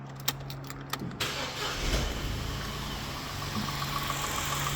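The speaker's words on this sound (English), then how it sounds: "so start the car." Vauxhall Corsa D 1.0 petrol engine starting: a few clicks precede the crank, then the motor catches and settles into a steady, even idle heard close up, with no talking.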